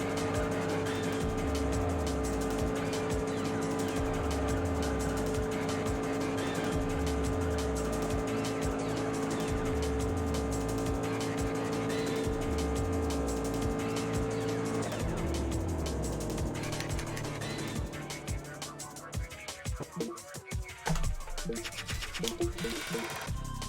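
Mazda MX-5 racing in the video game Juiced, a steady engine drone with rising and shifting tones held loud throughout, breaking into rougher, scattered noise near the end.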